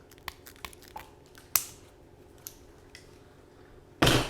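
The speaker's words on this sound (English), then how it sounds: "One thing I like to do is trim my weed guard on my jigs just a little bit." Small clicks and snips from trimming the weed guard on a fishing jig, a few scattered sharp cuts at close range, then a louder crunchy burst at the end, with no talking.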